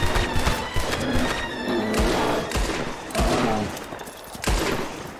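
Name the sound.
gunfire in the video game Red Dead Redemption 2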